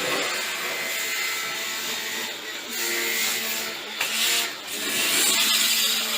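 A pressure washer hisses steadily while spraying down an aircon unit during cleaning, a continuous close, loud broadband rush that dips briefly and shifts as the spray moves across the unit.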